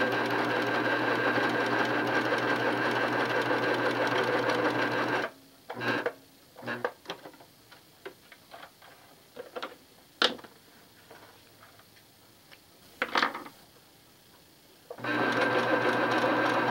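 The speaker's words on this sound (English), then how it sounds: "I'm going to take it over to the old sewing machine" An old sewing machine stitches fabric scraps together with a steady, close mechanical whir. It runs for several seconds, pauses for a stretch of scattered clicks and handling noises, then starts up again.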